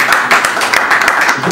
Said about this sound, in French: Est-ce qu'on peut applaudir les gens?